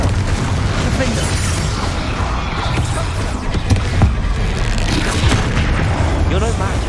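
Spell blasts and booming explosions erupt during combat in the Hogwarts Legacy video game, a dense, loud, continuous barrage of bursts and rumbles with voices mixed into the busy game audio.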